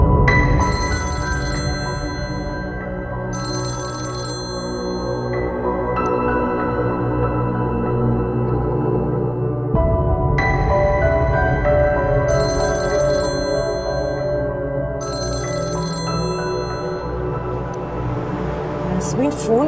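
A telephone rings on and on with nobody picking up. The electronic ringtone repeats in regular bursts over a sustained tonal background bed.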